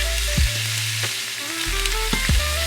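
Onions fry in olive oil over low to medium heat, making a continuous, close sizzle with faint stirring sounds beneath a low background hum.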